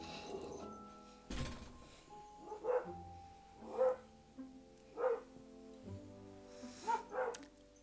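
A dog barks several times outdoors, a sharp thump first and then spaced single barks roughly once a second, fairly faint against a quiet background.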